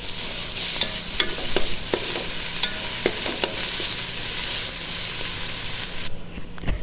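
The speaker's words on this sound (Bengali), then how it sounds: "এই যে আদা রসুন দিয়ে দিলাম। দেখুন, একটু তেলের সাথে ভেজে নেব ভালো করে।" Ginger and garlic frying in hot oil give a constant sizzling hiss, broken by repeated scraping stirs of a spatula, before the sound thins out abruptly near the end.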